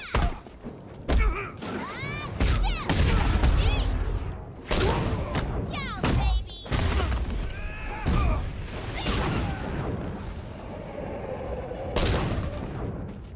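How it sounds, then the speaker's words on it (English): Punches, thuds and impacts land in quick succession during a Harley Quinn fight sequence in Batman: Arkham Knight, with heavy blows and a dropped baseball bat mixed among dense, loud combat noise. "Did you hear each sound connect? Even the baseball bat that the enemy NPC was holding, when it fell, did you hear it?"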